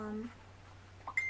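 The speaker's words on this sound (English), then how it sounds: "That is my phone." A phone gives a short two-tone message alert, faint and brief, right at the end after a moment of quiet room sound.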